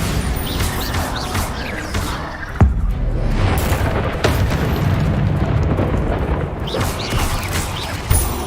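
Bombarda blasting spell explosions in Hogwarts Legacy, a run of loud booming blasts with sharp onsets near 2.6 and 4.3 seconds over continuous rumbling and crackling debris, with no speech.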